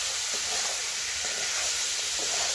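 Potatoes fry in a pan with a steady, even sizzle, a continuous hiss holding at a constant level with no pauses.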